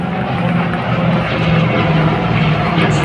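Loud, steady roar of MiG-29 fighter jets in a Republic Day parade flypast over Delhi, a continuous engine rumble filling the whole clip without letting up.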